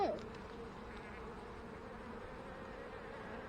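Honeybees buzzing around hive frames during a hive inspection, a steady soft drone of many wings close by, with a brief louder sweep at the start.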